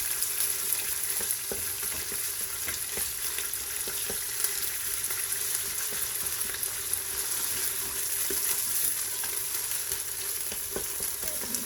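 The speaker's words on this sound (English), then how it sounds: "So I'm gonna fry for about 2 minutes" Ground beef sizzles steadily in a hot Instant Pot, a constant bright frying hiss broken by occasional light clicks and scrapes of stirring, close up and with no talking.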